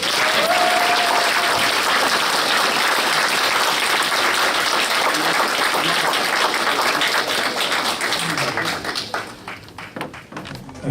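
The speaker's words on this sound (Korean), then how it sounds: "우리 문정인 특보님을 큰 박수로 맞이해 주시기 바라겠습니다" An audience claps in warm welcome for a speaker at a gathering, dense sustained applause that fills the room and then thins into scattered claps as it fades.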